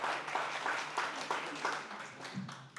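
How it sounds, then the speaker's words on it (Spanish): Church congregation applauding during a Spanish-language sermon, a steady wash of many hands clapping at moderate distance, continuous for a few seconds without a pause. "Puedes aplaudir si deseas."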